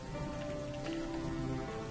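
Rain pours steadily in the game Dwarf Fortress, a uniform, close hiss of falling drops over a faint low drone, with no talking.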